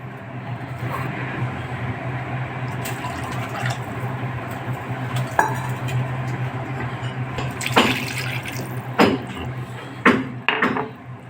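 Water poured steadily into a small cooking pot, a continuous splashing fill over a low background hum, ending with a few knocks and clatters.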